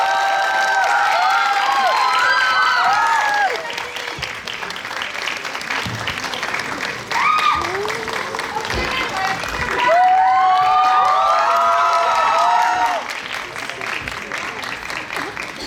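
Audience applause fills a cinema hall during a live-broadcast star talk event for the film Prison at CGV Apgujeong, steady dense clapping with scattered cheers and whoops swelling and easing across the whole span, no words spoken.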